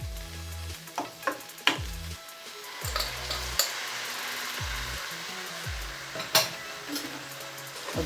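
Rice being stirred in a frying pan while making coconut milk peas pulao, with a soft continuous sizzle broken by repeated scraping strokes of the spoon and a few sharp clinks against the pan.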